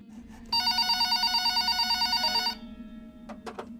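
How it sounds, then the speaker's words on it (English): A telephone on a shop counter rings in a steady burst of rapid electronic trills lasting about two seconds, fairly loud and close, then stops, followed by a couple of faint brief clicks. "the phone on the counter rang"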